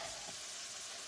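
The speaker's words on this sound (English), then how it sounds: "So, as you can see, these are sizzling away." Diced tomatoes sizzle in a frying pan for an egg and tomato stir-fry, a faint, steady hiss with no talk over it.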